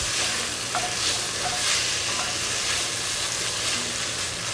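Roasted, chopped Hatch green chili warms in a pot for Texas-style chili, giving a steady, even sizzle with faint stirring scrapes that stays constant throughout, with no one speaking.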